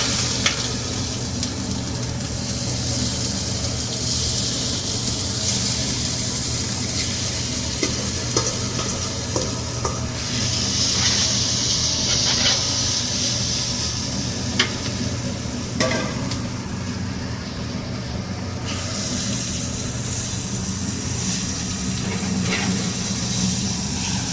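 Noodles and vegetables stir-fry together in a hot pan, a loud continuous sizzle with scraping and tossing strokes that rise and fall over about twenty-four seconds, with no voices present.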